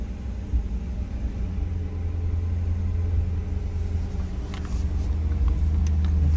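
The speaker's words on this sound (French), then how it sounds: "Donc là, l'échappement gueule un peu parce que t'es en mode sport, il me semble." The exhaust of a new Corvette in sport mode rumbles at a steady low idle throughout, moderately loud and close, with faint clicks and light knocks near the end.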